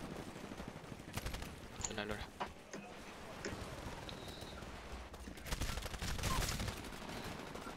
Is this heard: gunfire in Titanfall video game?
yes